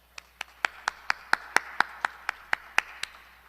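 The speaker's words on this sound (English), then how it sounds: "join me in giving them a round of applause" A single pair of hands claps slowly and evenly, about a dozen sharp claps in steady rhythm, at a school education awards celebration.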